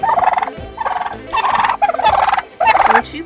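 Turkeys on a homestead farm gobble in a rapid burst, then again in three more loud, close bursts with short pauses between, during evening chores.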